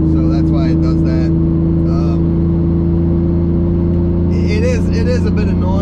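A 500HP turbocharged BMW M50 E34 with a high differential ratio cruises at highway speed around 3,500 RPM, its steady loud engine drone and road hum constant throughout while people talk over it.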